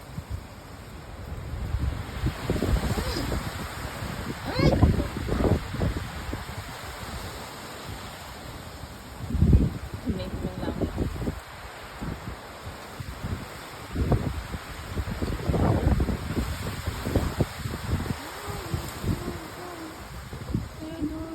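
Strong wind of a typhoon in Japan buffeting the microphone, gusting in loud rushing bursts that rise and fall over about twenty seconds, with rustling throughout.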